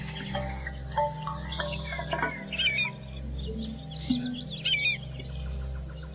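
Wading birds call across a wetland, giving scattered chirps and squeaky calls at moderate distance over a steady low background hum, with no speech.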